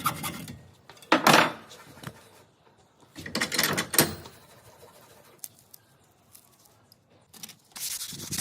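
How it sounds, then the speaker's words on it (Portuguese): A thin 3 mm wooden strip for a model truck body, a D-20, is sanded by hand in short, scratchy bursts of rubbing and rasping separated by pauses, close and moderately loud. "estou passando uma ripinha de 3 milímetros e já deixo ela lixada, basicamente pronta"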